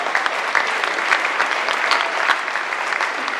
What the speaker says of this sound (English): Give these guys a big, big round of applause.